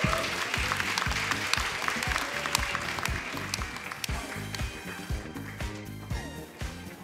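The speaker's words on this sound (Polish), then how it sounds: "Ogromne brawa." An audience at the Mysłowice talent show in 2022 gives a long round of applause, the clapping mixed with loud music and gradually thinning toward the end.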